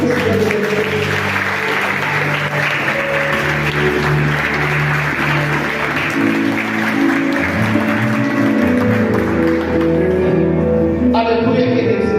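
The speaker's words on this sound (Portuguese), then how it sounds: "E as palmas vão para o Senhor." Sustained applause from a church congregation during a worship service, a dense steady wash of clapping that continues throughout with a musical background underneath and no pause.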